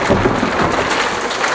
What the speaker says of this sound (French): Et maintenant c'est l'orage.